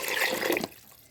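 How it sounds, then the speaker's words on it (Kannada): Water is poured into a cooking pan while a Mangalorean fish curry is being made: a short, close splash of about half a second that stops abruptly, leaving quiet. "ನಾನಂತೆ ನೀರು ಪಾಡೋಡು ಒಂಚೂರು ನೀರು ಪಾಡೋಡು"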